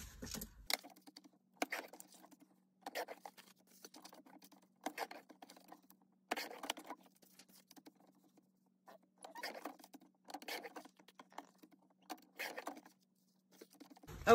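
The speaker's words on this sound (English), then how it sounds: "now I'm just gonna trim up some more papers" Papers are trimmed for a handmade journal made from a hanging file folder, giving a series of short, quiet cutting and rustling sounds in an irregular rhythm, close by and alone.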